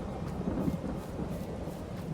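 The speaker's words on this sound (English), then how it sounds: "Oh, by the way, yo, thunderstorm." A thunderstorm in Farming Simulator 23, with rain falling: a low, steady rumble and a soft hiss of rain, faint and continuous, with no voices.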